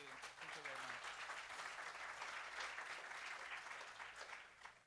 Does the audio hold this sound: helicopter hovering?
no